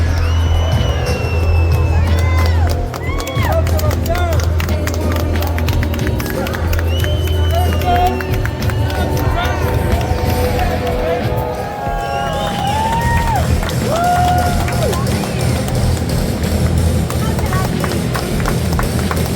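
A large crowd at a women's flyweight title boxing bout cheers and roars steadily throughout, with whoops and scattered clapping in the dense hubbub and a low hum running underneath.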